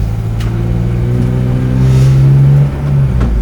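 BMW E46 M3 track car, a former British Touring Car racer's own car, revving loudly with a steady low engine drone that swells into a stronger rev midway before easing back, close and alone.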